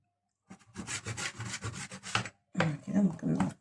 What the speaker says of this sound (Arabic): نبدأ نقطع في الصبيط بتاعنا